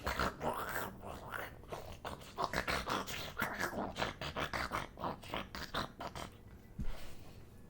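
A man imitating a pug with his voice, making continuous snorting, grunting and growling noises in rapid rough bursts, close and fairly loud, with one sharper snort near the end.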